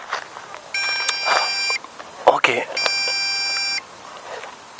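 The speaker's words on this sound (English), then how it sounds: "you have a longer beep now, so it say, oh, it's time to land immediately" MJX Bugs B2W drone sounding its emergency landing warning: two long, steady high-pitched beeps of about a second each, close and clear, with someone talking briefly between them.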